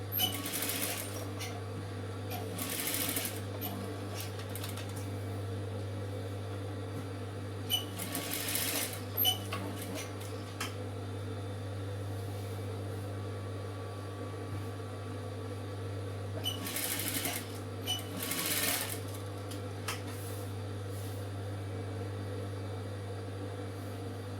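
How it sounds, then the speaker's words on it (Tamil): A sewing machine stitches along the lining edge of a chudidar front in three short bursts of rapid whirring, separated by pauses over a steady low hum. "அந்த லைனிங் ஓரத்தில் நம்ம அடிச்சுக்கிறோம்"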